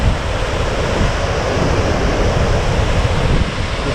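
A large waterfall with a big drop and rising spray roars as a steady, loud broadband rush, close and continuous, with wind buffeting the microphone on a hillside trail.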